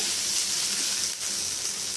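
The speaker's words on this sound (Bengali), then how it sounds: "মশলাটা ভাজা ভাজা হয়ে গেছে" Ginger-garlic spice paste, thinned with a little water, fries in a pan with a continuous, fairly loud sizzling hiss that holds steady from start to end, no voices present.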